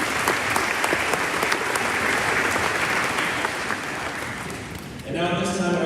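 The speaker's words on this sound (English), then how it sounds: "Please give yourselves a round of applause." Steady, dense applause from a large high school commencement crowd fills the space for several seconds, fading slightly near the end as a voice begins.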